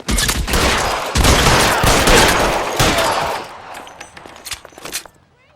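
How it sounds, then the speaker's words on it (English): Sustained L.A. Noire video-game gunfire, a dense loud barrage of overlapping shots that fills most of the stretch before thinning into a few scattered bursts and fading out. "Open fire!"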